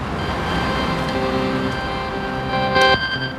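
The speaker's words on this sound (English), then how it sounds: "That sound you hear tells Enrique there's something in front of him." Obstacle-detection tone from a wearable sight-through-sound device worn on a street: steady electronic tones sound continuously, stepping through several pitches with a brighter burst near the end, over faint outdoor background.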